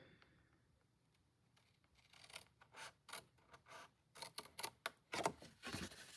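A paper trimmer cuts cardstock for a fold card in a series of short, quiet close-up strokes, the slicing and rubbing sounds growing more frequent toward the end.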